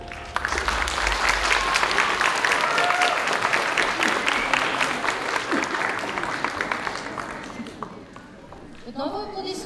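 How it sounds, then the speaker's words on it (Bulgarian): Sustained audience applause fills a cosplay stage at a game summit, dense clapping with crowd noise, then tapering off near the end as a voice begins to speak. "Отново аплодисменти за Moriarty the Patriot."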